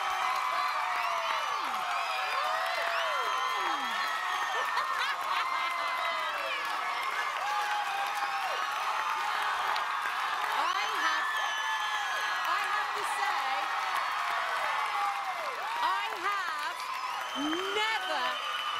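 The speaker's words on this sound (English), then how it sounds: "Never, in So You Think You Can Dance history, heard a roar from a crowd like this" A huge crowd roaring and cheering at a So You Think You Can Dance show, a sustained loud wall of whoops, screams and applause with no letup.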